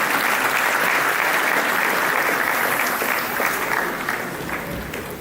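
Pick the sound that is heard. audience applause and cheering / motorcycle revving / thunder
audience applause and cheering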